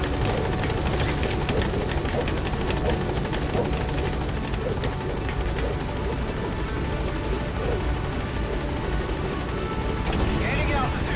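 A support helicopter in the video game Metal Gear Solid V hovers nearby with continuous loud rotor thrum and engine whine, while radio-style voice chatter and game effects sound over it.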